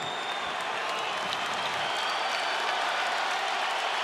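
An arena crowd at a UFC fight applauds after the first round, a steady roar of clapping and cheering that stays at an even level throughout.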